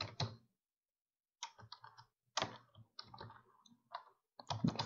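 Quiet bursts of typing on a computer keyboard while writing Python code, clustered key clicks separated by short pauses, close and soft.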